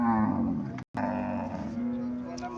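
A Friesian dairy cow lets out a loud, sustained moo close by, with a brief cut partway through before the low bellow carries on to the end.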